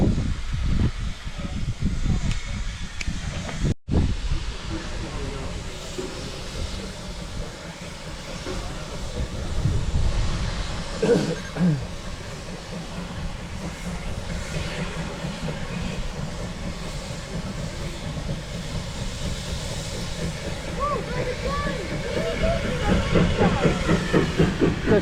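Steam locomotive Victor rolls into a station on the West Somerset Railway during an anniversary weekend, a steady hiss and rumble with faint wheel clatter building over time, people talking nearby.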